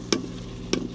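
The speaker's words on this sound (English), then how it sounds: "let me stir this" Tomatoes cooking in a pan get stirred twice, each stroke a short scraping clatter over a faint, steady sizzle, close and fairly quiet.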